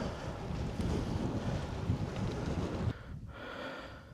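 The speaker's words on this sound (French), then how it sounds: "Ouais, là on a vent de face." Loud headwind buffeting a microphone on a moving bicycle, a steady roaring rush that drops somewhat in the last second, with no voices.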